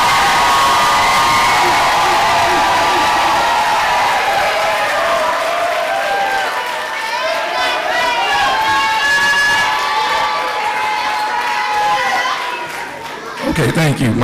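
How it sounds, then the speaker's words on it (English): An audience at an elementary school promotion ceremony applauds and cheers loudly, with whoops and children's shouts over dense clapping. The noise swells, then fades near the end as a voice comes in. "Let's give them a round of applause."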